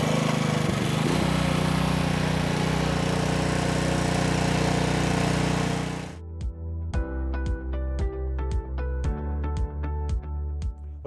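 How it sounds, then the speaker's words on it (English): A small gasoline motor on a horse-stable water wagon roars steadily at high speed and then abruptly drops to a lumpy, pulsing idle with a rhythmic, loud, close chug. "You start this motor like many other typical motor, give it a little bit of gas on the throttle, engage the choke, make sure your gas is on"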